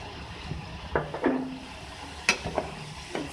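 Capsicum and vegetables for chicken egg roll filling are stirred in a pan, giving a few soft scrapes and clinks with faint sizzling between them.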